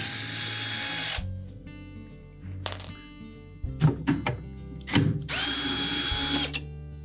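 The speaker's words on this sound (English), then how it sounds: "It's held in place with 2 1/4-inch hex head screws. So begin by removing both of those." A power driver spins out two 1/4-inch hex head screws from the front grill of a Whirlpool refrigerator: a loud whir, scattered clicks and knocks, then a second strong whir near the end.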